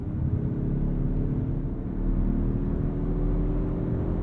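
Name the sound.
2023 Mazda3 Turbo hatch engine and exhaust while driving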